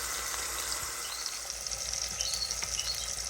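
A pot roast browning in avocado oil, a close, steady sizzle and hiss of hot fat with a few soft pops, with no talking.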